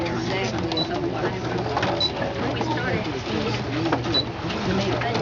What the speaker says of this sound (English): I'm going to just sew it at a 1/4 inch seam